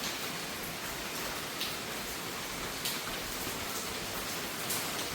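A hard downpour hisses on continuously, a thick, even wash of falling rain with scattered louder patters and no voices.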